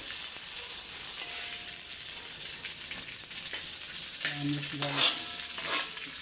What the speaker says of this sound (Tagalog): Sa loob yung margarine, tapos yung bawang.